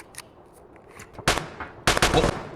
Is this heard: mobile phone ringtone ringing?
no